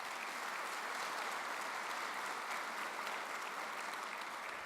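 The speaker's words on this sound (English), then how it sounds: "I would like you to please give them a round of applause" An audience at a congress gives a dense, steady round of applause that holds at an even level throughout, with no voices on top.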